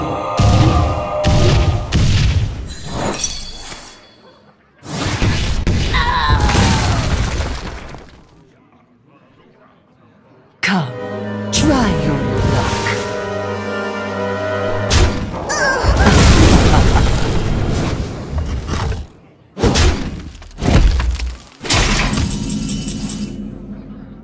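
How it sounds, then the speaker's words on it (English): Spell and card effects from the Hearthstone video game, including an Arcane Missiles cast: loud bursts of booms, glassy shattering and chiming magical tones in separate clusters with short silent gaps, close and clear. "cast arcane missiles!"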